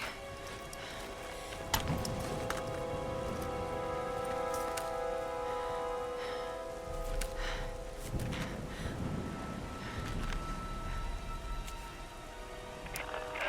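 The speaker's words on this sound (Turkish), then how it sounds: "Yağmur da temizledi bizi biraz." Rain falls steadily in the Tomb Raider video game, a continuous wash of patter and drops heard alone at a moderate level, with soft game music underneath.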